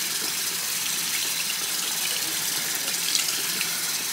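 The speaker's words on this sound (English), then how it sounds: "So we're going to rinse it." Walnut-leaf dyed fabric rinsed under a running tap, a steady close gush of water into a sink that holds evenly throughout with no talking.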